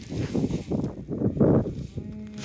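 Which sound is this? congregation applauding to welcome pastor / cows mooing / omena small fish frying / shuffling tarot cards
cows mooing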